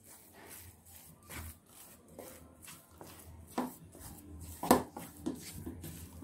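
Semolina sheera cooking with cardamom powder in a pan, stirred with a spoon that scrapes and knocks against the metal in a string of soft, irregular strokes close by, with one louder clack near the end.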